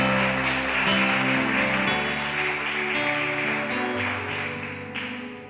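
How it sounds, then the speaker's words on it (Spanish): A church congregation claps hard in a steady, dense wash of applause, layered over sustained keyboard or organ chords that change a few times before the clapping fades. "Levante un aplauso fuerte a Dios si lo cree"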